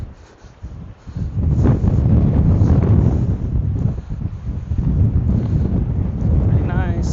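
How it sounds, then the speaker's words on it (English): Strong coastal wind on Vancouver Island blowing steadily and loudly across the microphone, a dense continuous roar that swells after the first second and fills the whole stretch. "obviously it's windy"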